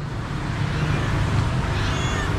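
A cat meows in a garden setting, a thin, high cry rising near the end over a steady wash of outdoor background noise.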